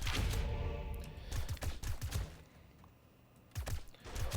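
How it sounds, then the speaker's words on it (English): Assault rifle fire in the survival game 7 Days to Die, a run of rapid repeated shots in bursts, loud and close, with a brief lull before firing resumes. "got the old assault rifle going"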